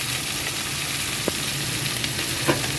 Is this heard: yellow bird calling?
no